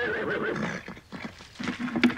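A horse whinnies in a drama scene about racing, a drawn-out wavering neigh at moderate distance, followed by softer snorts and movement.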